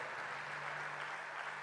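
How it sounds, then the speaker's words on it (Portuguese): A church congregation on its feet applauds in celebration: dense, steady clapping that fills the hall, heard somewhat faint and distant with a low hum beneath, continuing without a break. "E a igreja de pé, pode aplaudir ao Senhor por esta vitória."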